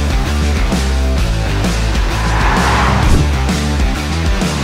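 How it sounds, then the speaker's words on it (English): A runway friction testing vehicle driving on an airport runway, made in India: a loud, steady engine drone with harmonic whine and rushing road noise, sustained close throughout with no talk. "This vehicle is called as a friction testing vehicle."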